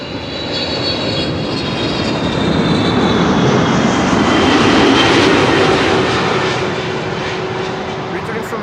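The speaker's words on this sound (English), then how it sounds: "Returning from Willemstad, Curaçao. 777-300." A KLM Boeing 777-300 jet passes at Amsterdam Schiphol Airport, arriving from Willemstad, Curaçao. The engines make a loud, broad roar that swells to a peak midway and then slowly eases.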